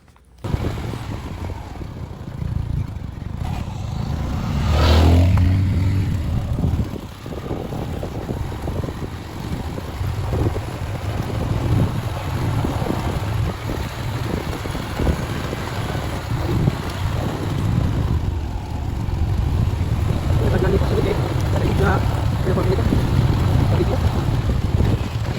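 Motorboat run in Puudan with a steady engine drone and gusting wind buffeting the microphone, continuous and fairly loud throughout, with faint voices now and then.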